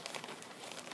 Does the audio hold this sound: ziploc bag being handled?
yes